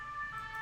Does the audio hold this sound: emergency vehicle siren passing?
yes